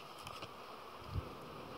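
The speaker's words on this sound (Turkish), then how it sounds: "Yani polen sıkıştırma straforun üzerinde bile arılar dolanıyor." Honeybees buzzing around an open hive during a brood check, a faint, steady drone of many bees with a soft thump near the end.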